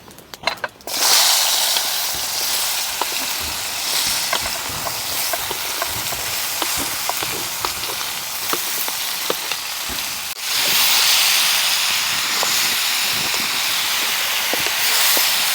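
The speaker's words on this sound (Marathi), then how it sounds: "आता त्याच्यानंतर आपल्याला ही लगेच कापलेली काकडी आहे काकडी टाकून घ्यायची" Chopped cucumber dropped into a hot pan with cumin and turmeric, bursting into a loud steady sizzle, scattered clicks of stirring, then a second surge of hissing near the end.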